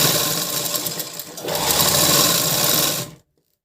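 A sewing machine stitches a blouse side seam in a fast, continuous close whir that runs steadily for about three seconds and then stops abruptly into silence.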